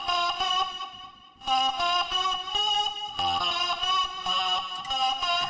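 A music track with a Valhalla delay plugin switched on plays alone, bright synth tones in short repeated phrases with echoing tails trailing behind each note, steady and moderately quiet.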